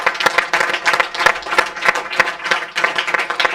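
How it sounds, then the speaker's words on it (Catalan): Audience applause for Rocío at a school handball event: dense, steady clapping from many hands throughout, close and lively with no talking. "jo el que ara vull demanar és un fort aplaudiment per la Rocío"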